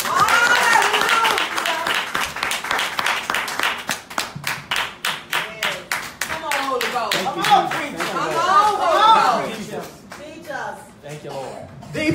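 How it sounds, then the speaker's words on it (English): Church congregation clapping hands at a resurrection service, a run of sharp rhythmic claps that speeds up into steady applause while voices talk and call out over it. "Somebody clap your hands."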